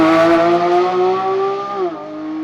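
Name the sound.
sports car launching, engine revving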